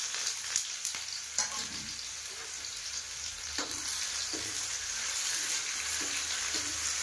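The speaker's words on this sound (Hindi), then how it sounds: "इसमें डाल दी पहले मेथी और जो पकौड़ा का ऑयल बचा हुआ था भाई उसमें ही डाल दी है।" Fenugreek seeds and onion fry in leftover pakora oil in a pan for kadhi, giving a steady, fairly close sizzle throughout, broken by a few soft stirring knocks and scrapes.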